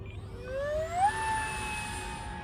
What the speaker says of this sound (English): Wow, great flying plane.